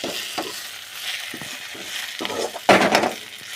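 Freshly picked drumstick leaves sautéing in oil, a close crackling sizzle broken by bursts of stirring and spatula scrapes against the pan.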